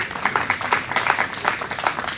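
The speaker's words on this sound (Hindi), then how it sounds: "भाई के लिए जोरदार तालियां" A gathered crowd gives loud, sustained applause for journalist Sandeep Pakhade, the dense clapping rising and falling in rapid, continuous waves up close.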